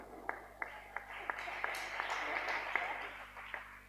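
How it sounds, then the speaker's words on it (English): Slow, evenly spaced claps from an audience at a hackathon closing event ring out about three times a second over a low murmur of voices, moderately faint and somewhat distant. "can we clap for them?"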